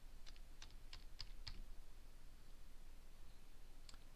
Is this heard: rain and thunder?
no